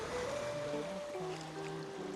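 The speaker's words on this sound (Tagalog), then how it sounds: "Malakas yung ano ng alon eh. Yung hagupit ng alon." Strong ocean surf crashing near a sandbar off Guimaras Island, a steady, loud roaring wash that fills the whole clip, with a faint engine-like hum running beneath it.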